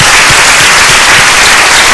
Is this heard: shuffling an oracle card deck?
no